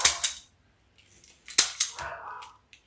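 Snipping through Christmas tree wreath kit material, a few sharp close cuts in two short bursts separated by a pause, with a fainter trailing rustle.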